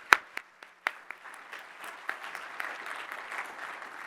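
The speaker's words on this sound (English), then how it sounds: "please join me in giving him a warm welcome, a warm round of applause as he comes on stage." Applause from a keynote audience starts with a few scattered, sharp claps and builds into a steady round of clapping at moderate distance.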